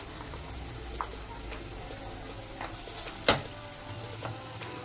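Spice masala for a rajma curry fries in a pan with a soft, steady sizzle, while occasional clicks and a sharp scrape from stirring cut through.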